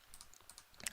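Quiet, quick keystrokes on a computer keyboard while coding in Visual Studio, a short run of light clicks with no talking.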